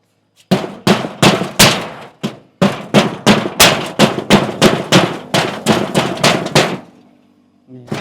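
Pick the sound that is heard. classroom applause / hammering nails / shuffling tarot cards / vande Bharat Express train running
hammering nails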